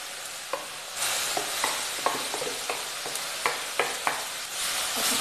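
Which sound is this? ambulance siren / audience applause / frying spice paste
frying spice paste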